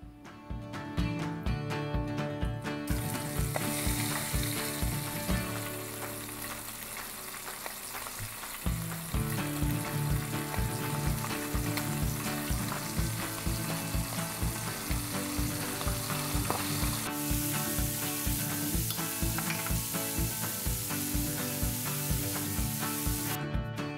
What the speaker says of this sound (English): When the oil is hot, you can add the squid in.